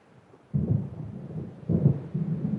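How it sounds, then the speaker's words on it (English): Thunderstorm in Alan Wake Remastered, heard as deep rolling thunder that arrives in heavy low bursts, one swelling rumble followed by another after a short lull, with no voices. "It seems there's a storm coming."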